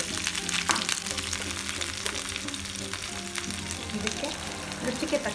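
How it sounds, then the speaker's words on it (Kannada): Mustard seeds and curry leaves sizzle and crackle steadily in hot oil in a pan, a continuous close frying hiss with scattered pops, joined partway by onions, with faint background noise. "ಸಾಸಿವೆ ಹಾಗೂ ಕರಿಬೇವನ್ನ ಹಾಕ್ಕೊಳ್ತಾ ಇದ್ದೀನಿ"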